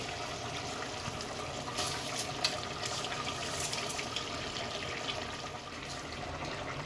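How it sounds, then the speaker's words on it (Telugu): Water is poured into soaked rice in a pot while making mutton pulao, a soft continuous splashing trickle heard faintly and alone at low level. "ఒక కప్పు వరకు అయితే వాటర్ పోసుకుంటున్నాను"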